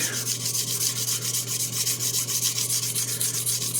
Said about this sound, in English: So I'll hit that with the sanding stick